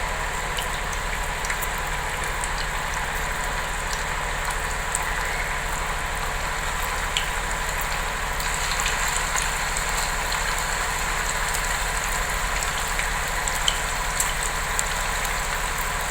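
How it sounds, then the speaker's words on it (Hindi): Chicken koftas frying in a pan, a steady dense sizzle and crackle that continues evenly throughout with no voices. "एक टाइम में जितने इसमें आ जाएंगे बस इतने ही अभी हम फ्राई करते हैं।"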